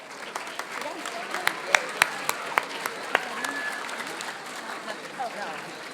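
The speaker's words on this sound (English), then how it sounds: "I would like for you to give them a round of applause." Audience applause at a town hall for spelling bee students, a steady wash of many hands with sharper individual claps standing out, moderately loud and sustained throughout.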